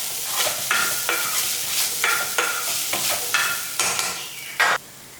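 Grated coconut and mint leaves sautéing in a pan, heard as a loud, continuous sizzle broken by repeated scraping stirs of a spatula at a fairly regular pace.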